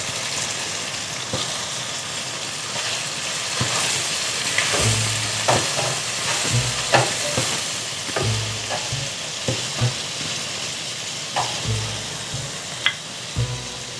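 Whole spice masala being stirred into mutton liver frying in a pan, with a steady sizzle throughout and repeated scraping, clattering stirs of a spoon against the pan, no voices.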